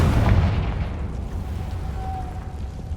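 A Confringo blasting spell explodes in Hogwarts Legacy, a loud single boom that fades into a rumbling tail, with no talk over it.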